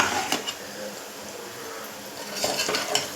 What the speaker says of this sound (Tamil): ஆனியன் இந்த அளவுக்கு நல்லா ஃப்ரை ஆகணும்